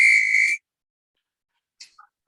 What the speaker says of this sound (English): Let me know if you can hear the whistles